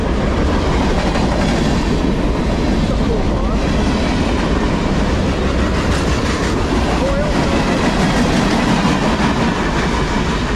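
A Norfolk Southern freight train rumbles past close by on the Conrail Shared Assets line in New Jersey, loud and continuous, with rolling wheel noise and rhythmic clatter from the cars.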